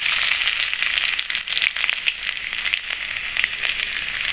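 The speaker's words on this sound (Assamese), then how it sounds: "আমাৰ তেলখিনি গৰম হোৱাত ইয়াত এতিয়া মই 2টা জিৰা কেইটামান দি দিছোঁ আৰু লগতে আদা মই চপ কৰি লৈছিলোঁ" Cumin seeds, chopped ginger and garlic frying in hot oil for a dal tarka, a loud, dense, continuous crackling sizzle with small pops throughout, heard up close.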